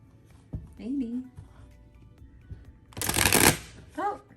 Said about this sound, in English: can we even like riffle shuffle this?